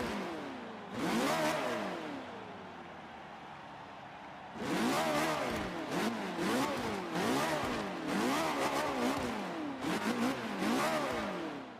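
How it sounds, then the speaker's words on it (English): An upgraded V8 car engine in the video game Forza 5 revs hard in repeated sweeping surges, with a high-pitched racing whine over a deep growl, heard alone. "It's got like a racing engine kind of quality to it. It's got that V8 sound, but it's also got that high pitch."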